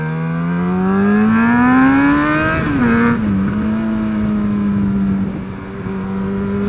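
A Jaguar XJ6 drives on back roads, its engine loud and close from inside the car, revving up steadily, shifting gear, then holding a droning cruise.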